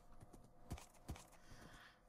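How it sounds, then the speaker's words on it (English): A horse clip-clops in Minecraft, with a few faint, quiet hoof taps in an uneven walking rhythm, two of them slightly louder. "Apparently I have a horse there"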